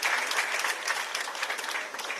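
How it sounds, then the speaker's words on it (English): A crowd at a Sierra Leone event on solar power for hospitals gives an Honorable Minister a round of applause, a dense, even roar of clapping that continues throughout. "I think the Honorable Minister deserves another round of applause"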